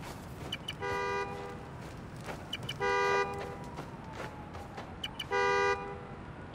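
Car horn honking three times at a steady interval in Spider-Man: Miles Morales after a key fob is pressed to locate a car, each blast about a second long and clearly audible over background game ambience.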